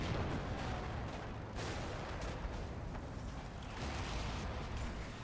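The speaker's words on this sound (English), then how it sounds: "the enemy still had plenty of mortar rounds left, as the explosions can be seen from afar" Distant mortar round explosions in the Combat Mission Cold War video game, heavy muffled booms rolling under a dense, steady wash of battlefield noise with no clear separation between blasts.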